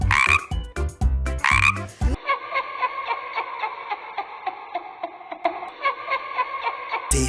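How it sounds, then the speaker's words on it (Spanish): Cartoon toad croaking in a children's farm song, a string of rhythmic, regularly spaced croaks over a steady musical backing, following a brief burst of music at the start. "¡Es el sapo Pepe!"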